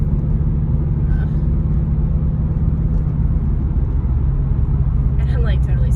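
Subaru WRX STI fitted with a K&N filter and milk jug delete, speeding along a road with a constant deep cabin rumble and steady engine whir, a person talking over the drone.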